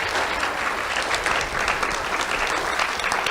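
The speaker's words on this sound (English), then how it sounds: "Let's have a round of applause for Rich, Norm, and John." Sustained audience applause at an awards ceremony, a dense, steady wash of many hands clapping in a room, fairly loud and continuous throughout with no talk over it.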